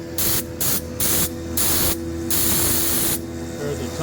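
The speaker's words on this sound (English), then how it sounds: "Starting on my grill bars. I'm milling the slots." Milling machine cutting slots into a billet aluminum grill for a 1929 Chevy, a loud hissing, spray-like cutting roar that surges in regular bursts over a steady machine hum.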